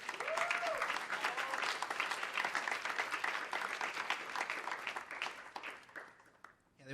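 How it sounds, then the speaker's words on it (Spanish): A church congregation at a Sunday-style service breaks into applause, a full, sustained round of clapping with a brief voice rising early on, then fading out near the end. "¿Le puedes dar un aplauso a Dios por eso?"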